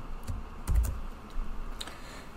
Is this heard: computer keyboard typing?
yes